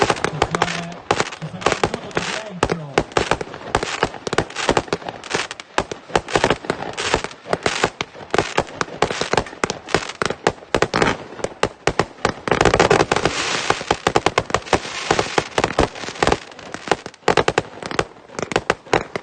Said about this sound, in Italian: Ancora fuochi d'artificio.